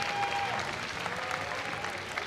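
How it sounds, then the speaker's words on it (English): Audience applause for two players at the 2014 Pokémon US National Championships VG Masters Top 4, a steady, dense wash of clapping from a crowd that holds strong for the whole stretch. "let's hear a round of applause for Alex and Jon here"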